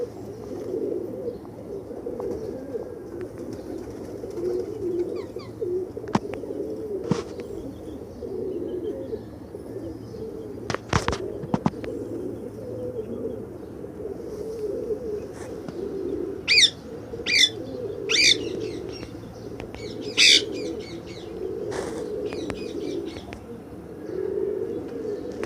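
Pigeons at a pigeon market in Gudary, Multan, with a steady low cooing murmur running throughout, several sharp bursts of chirping near the end, and a few clicks and knocks.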